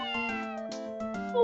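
A cat meows in the Phoenix Wright: Ace Attorney – Justice For All video game, giving a few short, tonal, close-up meows in quick succession with no talking.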